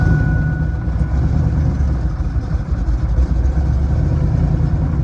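A 1996 Chevrolet Camaro with an oil leak idles close by, a steady low engine rumble that holds even for about five seconds with no talking.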